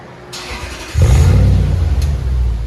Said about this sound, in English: That's what it looks like when you do a muffler delete on these.